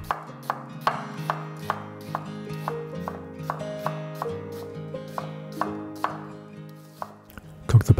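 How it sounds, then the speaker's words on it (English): Half an onion thinly sliced with a knife on a board, a steady run of crisp evenly spaced cuts with a brief louder clatter at the end, close and alone with no voices. "Half an onion, thinly sliced."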